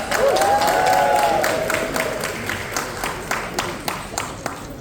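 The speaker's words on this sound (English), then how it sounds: "Let's give them a round of applause." A crowded gala room applauds the host committee with loud, full clapping and a few whoops at first, thinning into scattered claps as it dies away.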